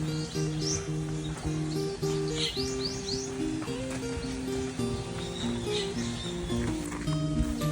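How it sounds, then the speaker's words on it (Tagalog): Birds chirp and tweet at a relaxing resort, with short bright calls scattered over a steady bed of background music and faint murmur, the birdsong fairly quiet and in the distance. "At pakinggan nyo dito mga mare yung huni ng mga ibon"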